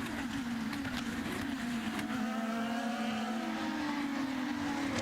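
A 2011 IndyCar race car at the Long Beach street circuit drops down the gears from about 160 mph on the straightaway into turn 9, its engine note sweeping continuously and loudly under steady track noise.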